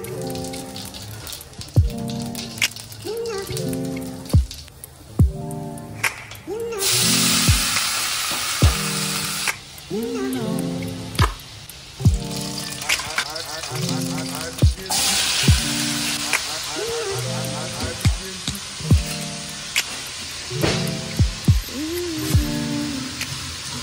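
Food frying in a heavy kadai set on the stove beside a second kadai, giving a loud, steady hiss of oil crackling with repeated sharp metallic clanks of a ladle throughout.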